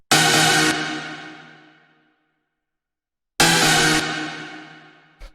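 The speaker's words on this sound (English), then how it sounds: "The first sound that we have here is this 90s chord stab" A 90s rave chord stab sample for lo-fi hard rave techno hits twice, each bright, thick chord ringing out and decaying over about two seconds, separated by silence, with a short click at the very end.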